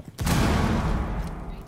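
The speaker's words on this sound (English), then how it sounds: "I only hit your arm, Vince, but I put too much bullets on you" Burst of rapid gunfire from the tactical shooter game Rainbow Six, loud and close, starting abruptly and sustained with a dense rattling roar that gradually eases, with no talk over it.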